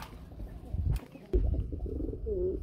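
Lahori pigeons at a pigeon market coo in low throaty bursts, a couple of calls near the end, amid handling thumps and market noise.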